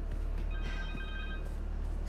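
A cell phone rings in the video game Marvel's Spider-Man 2, a short electronic ringtone with bright sustained tones over a low, steady background hum.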